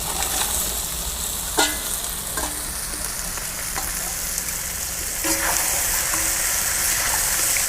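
Sundarban crabs fry in a pan with a strong, steady close sizzle, broken by a few clacks and scrapes of stirring.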